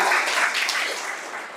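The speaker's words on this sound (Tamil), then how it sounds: "ஒரு சிறப்பான கைத்தட்டு கொடுங்க இந்த அம்மாக்கு" A crowd breaks into steady, loud applause, dense clapping that carries on evenly without any speech over it.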